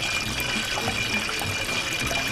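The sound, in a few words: water being poured little by little into a mixture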